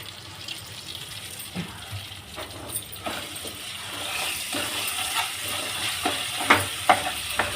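Carrot halwa with raisins, cashews and almonds being stirred in a pan, a steady soft scraping and faint sizzle with occasional louder spoon clinks toward the end, no talking.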